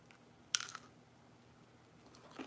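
A single crisp bite into a cooled, crunchy macaron shell gives one sharp close crack followed by a brief crumbly rustle, then near silence before a faint second crunch at the end.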